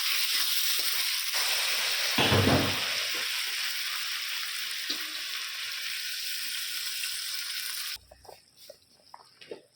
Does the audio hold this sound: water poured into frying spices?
yes